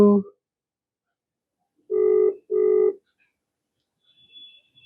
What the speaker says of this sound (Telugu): రింగ్ అవుతుంది లిఫ్ట్ చేయట్లేదు